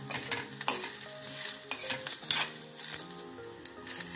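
Whole spices and ginger-garlic crackle and sizzle as they are roasted in a pan for a spicy patodi rassa, with steady stirring and occasional clinks of a spoon against the pan. The sound is close and continuous, with no talk.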